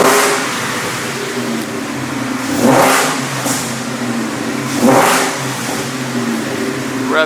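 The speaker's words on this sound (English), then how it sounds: "Car idles like butter." A Foxbody car with a Gen3 engine swap runs close by, a steady smooth idle broken by two brief throttle blips that swell and fall back, with no one talking.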